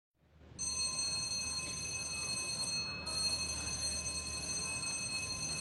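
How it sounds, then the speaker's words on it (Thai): A bright, sustained boxing bell rings steadily after a short rise to end a round at a title fight, holding a clear metallic tone for several seconds with only a brief dip partway through. "คิดว่าระฆังหมดยก"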